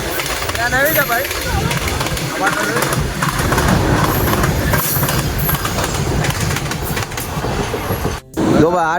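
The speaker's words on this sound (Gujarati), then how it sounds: "જો ભાઈ, આ ટ્રેનમાં જ આપણે જવાનું છે." A train stands and moves on railway tracks at a station, its loud rumbling and rhythmic clatter filling the scene up close, with people talking over it.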